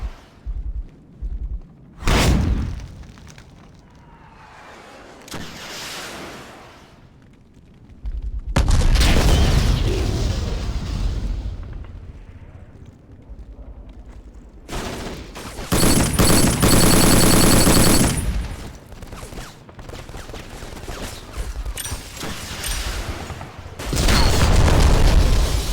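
Machine gun fire from an M249 in a video game, with bursts of booming, rattling shots recurring across the clip, loud and close, between quieter stretches.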